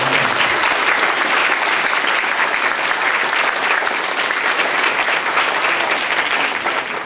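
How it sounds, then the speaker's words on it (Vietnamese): At a Christmas Mass, a congregation gives a long, loud round of applause for the choir and children, dense and even from start to finish before easing off slightly at the very end. "chúng tôi cũng xin cộng đoàn dành một tràng pháo tay để chúc mừng ca đoàn cũng như là các em"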